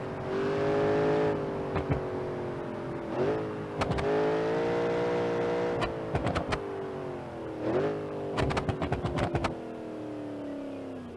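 A V8 engine in a 200bx "Rotsun" car in BeamNG.drive, droning steadily and rising in pitch as it accelerates through gears, with loud clattering knocks and bangs between shifts.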